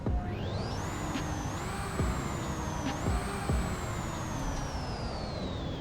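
Engine startup of a 2014 Celestial Type 6 car in a Roblox game: a steady, loud engine drone with rising and falling pitch sweeps as it revs, continuous throughout with no talking.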